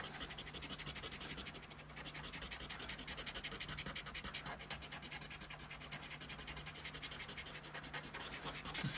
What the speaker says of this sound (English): what I'm going to then do is I'm going to just rub out the inside of that shape